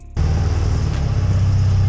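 A 1986 Porsche 944 base model with a 2.5-liter naturally aspirated inline four starts up abruptly and settles into a steady, loud, close engine drone with a deep low rumble, no talking over it.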